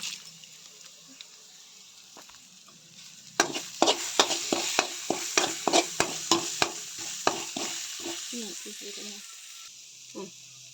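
Cumin seeds crackle in hot oil while being stirred in a pan as vada pav is prepared, a run of sharp sizzling pops and scrapes close by after a quieter opening.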